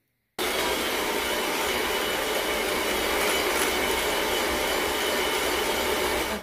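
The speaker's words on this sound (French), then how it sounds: "je vais commencer à fouetter ce mélange jusqu'à ce qu'il devienne blanc et il double de volume" An electric whisk beats batter for a chocolate layer cake, a loud steady whirring that starts abruptly after a brief silence and runs evenly to the end.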